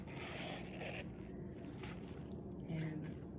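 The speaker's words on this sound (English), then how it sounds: "the zipper works so well" A zipper on a Louis Vuitton Multi Pochette Accessoires is drawn smoothly and close up, giving a continuous soft scraping rasp that runs for a few seconds.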